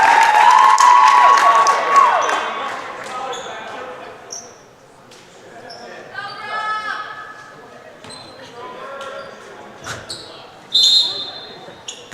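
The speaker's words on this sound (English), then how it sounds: "Go Profs chant, or really just a saying coming from the crowd" A gym crowd at a Rowan Profs men's club volleyball match against Rutgers New Brunswick raises a loud, massed cheer up front that fades into scattered shouts, ball thuds and a commentator talking over the hall.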